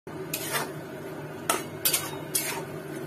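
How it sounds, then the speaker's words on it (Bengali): Mushrooms in hot water are stirred in a pot, giving a few sharp metallic clinks and scrapes of a spoon against the rim, spaced irregularly over a quiet background, close and fairly soft. "গরম জল, এতে মাশরুমগুলো দিয়ে দিতে হবে, দিয়ে ভালোভাবে নাড়াচাড়া করে"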